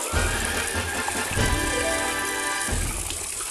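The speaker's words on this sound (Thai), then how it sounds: "ก็ทำการล้างแบนไปเรื่อยจนหมดนะ" Water splashes and pours steadily while betta fish bowls are washed, a close, continuous wet rushing with a few heavier gushes and clinks of the bowls.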